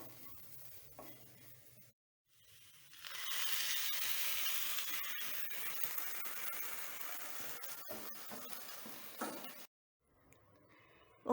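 Cooked dal poured into a pan of sizzling tempered spices with kasuri methi, giving a sudden loud hiss and sizzle that holds steady for several seconds, with stirring clinks, before dropping away.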